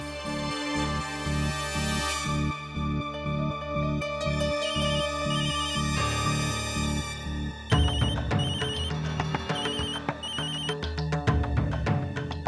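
A phone ringtone plays a looping electronic melody with a steady beat, loud and close, with no voices.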